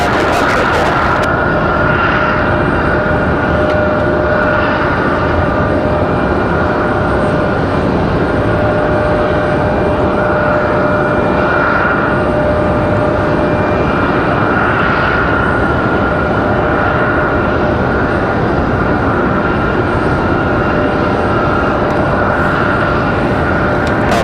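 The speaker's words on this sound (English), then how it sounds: "Looks like we got American Airlines 1897 pushing back" An American Airlines Boeing 737-800 jet airliner pushes back at Raleigh-Durham International Airport, heard as a steady, loud whine and rumble of jet engines running at a constant level throughout.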